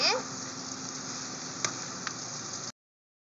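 Pork for sisig sizzles loudly in a hot pan as it is mixed, a steady close-up hiss that runs for a few seconds and then cuts off abruptly.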